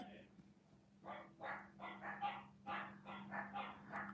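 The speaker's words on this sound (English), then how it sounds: "Anybody hear my dogs? That's all they do." Several dogs bark repeatedly in quick, overlapping bursts at a moderate distance, over a steady low hum.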